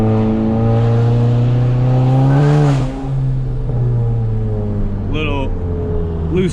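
A 350-horsepower VW MK7 GTI drives through a turn from inside the cabin, its engine droning loudly and steadily with a brief rise and fall in pitch midway.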